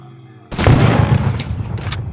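A single loud, close blast from an RPG-7 rocket launcher in the zombie shooter Project Lazarus, a sudden boom that rolls into a sustained roar and crackle for about a second and a half.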